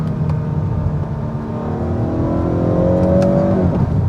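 A 2022 Honda Accord 2.0T Touring with a 2-liter turbo engine and 10-speed automatic accelerates hard from inside, its loud engine note rising steadily in pitch through a gear, heard alone.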